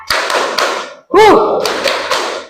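Children clapping hands together on a count in a classroom game, a few sharp group claps spaced across the moment with a break midway, mixed with voices speaking and calling out.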